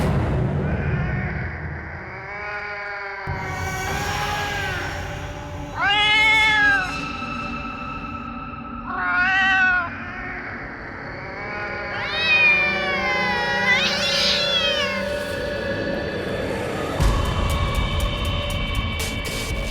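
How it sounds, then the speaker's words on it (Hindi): A cat meows several times in separate, drawn-out, rising and falling calls at fairly close range, with quieter gaps between them and no one talking. "ये तो वही बिल्ली की आवाज है"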